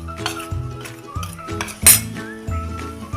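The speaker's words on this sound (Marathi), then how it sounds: "हे आता एकसारखं हलवून घेऊया" A spoon stirs and clinks against a mixer jar, blending a sautéed mixture with turmeric, chilli powder, asafoetida, goda masala and cumin powder. The sound is a few close metallic scrapes with a sharper clink near the middle, over a steady tonal background.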